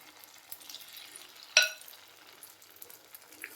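Egg batter poured into a hot kuzhi paniyaram pan gives one brief, bright sizzling burst, then settles into a faint, quiet crackle with no talk.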